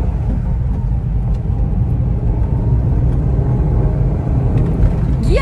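A Honda S660 mid-engine kei sports car driving on a mountain road, a steady low engine rumble heard from inside the cabin with no clear gear changes, continuous and fairly loud throughout.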